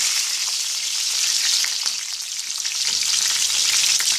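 Garlic and onion fry in oil, a close, bright crackling sizzle running continuously and evenly with no voices.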